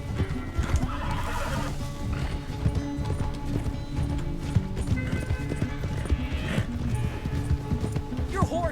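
In a video game, a horse gallops with rapid, rhythmic clip-clop hoofbeats and lets out loud whinnies, close and busy under game sound, with no one talking.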